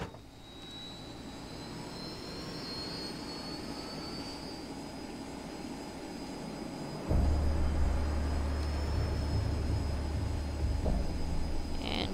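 An airplane engine in the Just Cause 2 video game roars steadily with a jet whine, then deepens into a louder low rumble partway through as power increases.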